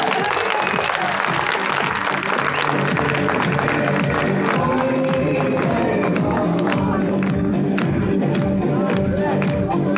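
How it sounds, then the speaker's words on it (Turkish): A large crowd at an outdoor public rally in a democracy square applauds strongly, with dense sustained clapping, cheering voices and rhythmic bursts, loud and unbroken through the whole stretch. "Bu kardeşimize kuvvetli bir alkış verildi."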